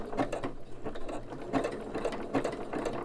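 Sewing machine stitching coiled rope into a bowl, a steady mechanical whirr with rhythmic clicking bursts, close and fairly loud with no talk.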